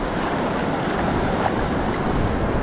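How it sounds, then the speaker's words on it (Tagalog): Strong surf pounding and washing against rocks along a shallow coastline, a steady loud roar of breaking waves with wind buffeting the microphone throughout. "Malakas ang alon."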